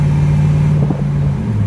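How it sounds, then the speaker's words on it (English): A 1967 Chevrolet Camaro SS convertible accelerates steadily through its gears, a loud, close, continuous engine drone with a brief dip and shift partway through, no talk. "I'm gonna stay quiet here as he's going through the gear so you can hear it"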